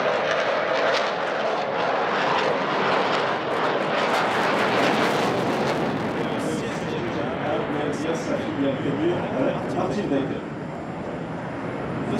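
A Rafale twin-engine fighter jet with two Safran M88 engines roars loudly and continuously overhead at the Paris Air Show, slowly fading, with a commentator's voice speaking over the noise.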